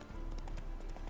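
Roach the horse gallops in The Witcher 3, steady rhythmic hoofbeats pounding under a dense game soundscape, close and continuous through the short stretch.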